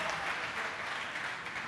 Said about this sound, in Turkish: Alkışlar onun için geliyor.